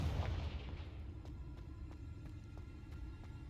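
A Confringo explosion spell in the Hogwarts Legacy video game bursts with a rumbling low boom that fades into a steady background hum, punctuated by faint, evenly spaced ticks.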